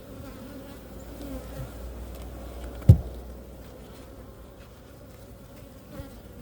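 Honey bees hum in a steady, low drone around an open hive being inspected for small hive beetles, close and continuous, with a single sharp knock near the middle and a faint tap toward the end.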